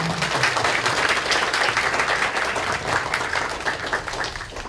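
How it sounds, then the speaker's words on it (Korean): A full hall claps at a Buddhist press and culture awards ceremony in Korea. The applause is dense and sustained, and it stays loud and even from start to finish. "다 함께 감사의 마음을 담아 큰 박수 부탁드리겠습니다"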